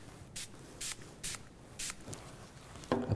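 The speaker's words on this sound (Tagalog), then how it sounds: "take the acid phosphatase reagent and spray on the filter paper" A bottle sprays acid phosphatase reagent onto filter paper in five short, soft hissing bursts at an even pace, close and quiet, with a faint rustle at the end.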